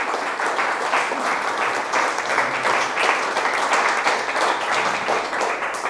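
A large audience in a hall applauds delivery workers, a dense, steady wash of many hands clapping at even loudness throughout, with no voices rising above it.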